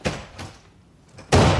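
A door thuds shut in an animated adventure, a short knock-like bang at the start followed by a louder, sustained slam near the end, with no talking.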